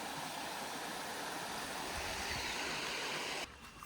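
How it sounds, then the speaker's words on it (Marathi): A babbling stream rushes steadily through a Konkan village during the monsoon, a continuous, close, full wash of flowing water that drops off sharply in the final half second. "पाण्याचा खळखळ आवाज हे बघा ना."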